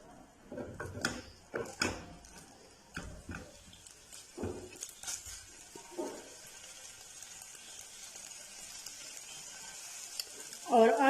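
Chicken pieces being broken up with a spoon in a hot pan, scraping and clattering against the pan over a low sizzle, close, with brief speech-like sounds mixed in.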